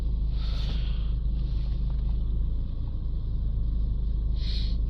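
A Land Rover Range Rover Evoque 2.0 diesel, restarted after a blocked DPF cleaning, idles with a steady, close low rumble and a faint whine, running evenly with no talk.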